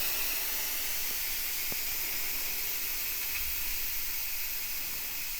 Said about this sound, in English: I'll go ahead and release the steam.